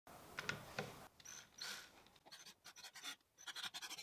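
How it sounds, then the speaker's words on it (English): Screws are driven to secure a woodworking piece, likely with a driver, in short whirring and ratcheting bursts with a few small clicks and scrapes, close but quiet, with no one talking. "I will start by placing the screws at the ends."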